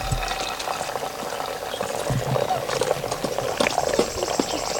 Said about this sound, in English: it's dripping down through the little pockets on there